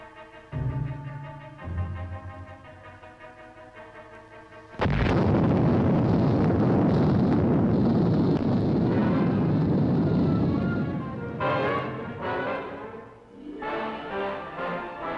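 Soft orchestral music plays, then a nuclear test explosion at Yucca Flats, Nevada bursts in with a loud, sustained roaring rumble lasting several seconds before easing back under the music.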